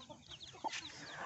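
A hen gives a single faint, short cluck in a small brooding pen, with quiet farm ambience around it.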